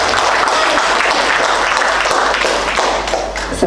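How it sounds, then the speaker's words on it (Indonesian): An audience claps after a dissertation defense presentation at an open doctoral exam, sustained loud applause with a few sharp taps and thuds, steady throughout before easing slightly near the end. "Sebentar tepuk tangannya ya."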